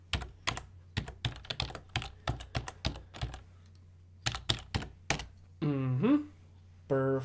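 Clicky computer keyboard typing in quick bursts of separate keystrokes, close and clear, with brief pauses between groups and a short hum-like vocal sound near the end.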